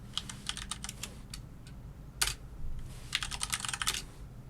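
Fingers type a sudo command on a computer keyboard, quick runs of close key clicks in bursts with a short pause and one sharper keystroke in the middle, against a quiet room hum.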